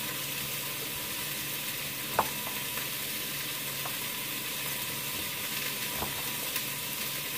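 Chicken sears in a quick cooker with a soft, steady sizzle and hiss. A few faint clicks and taps break through it, and the frying stays low and continuous.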